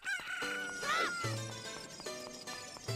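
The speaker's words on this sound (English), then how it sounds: "you gotta listen for the cuckoo noises" Cucco chickens in Zelda: Ocarina of Time crow at morning in town, several rising cock-a-doodle-doo calls over a bright game melody, close and clear.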